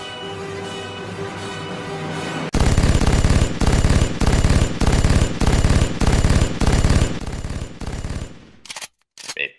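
A machine gun fires loud, rapid repeated bursts that begin abruptly after a quieter lead-in and keep on hammering for several seconds before ending in scattered final shots.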